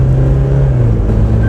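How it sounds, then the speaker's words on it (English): The big engine of a Toyota Fortuner Legender runs above 2500 RPM, giving a steady, low droning hum. The hum is heard from inside the cabin, with a slight pitch shift partway through. "Post 2500 RPM, the engine noise starts creeping in, and I mean obviously it's a big engine,"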